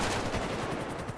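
In a video game, dense, loud, continuous gunfire rattles at a Jeep Gladiator, with rapid automatic shots blurring into one steady barrage and no pauses.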